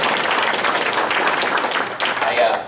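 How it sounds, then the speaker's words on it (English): Dense, steady audience applause fills a seminar hall at a self storage investing event, many hands clapping together at close range with no pause, dipping slightly near the end. "let's give a round of applause to Tim, Shan, the volunteers, everybody that puts on"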